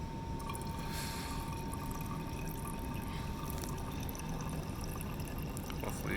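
Liquid drains steadily from a vessel during banana oil (isoamyl acetate) lab preparation, a constant close pouring rush that lasts throughout with no pause.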